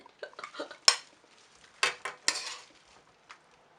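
Pinakbet with shrimp being plated up, several distinct clinks and scrapes of utensils against a pan and dishes, spaced irregularly with quiet gaps between them.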